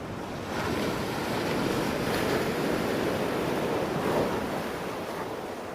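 Ocean waves roll and wash in a constant loud roar with a windy hiss, steady throughout and free of any voices.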